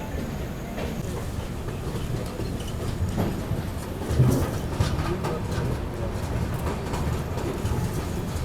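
A passenger express runs between Guwahati and Sairang in Mizoram with a WDP 4D diesel banker locomotive pushing at the rear, giving a steady rolling rumble and faint rail clatter, with a louder thump midway and no talk.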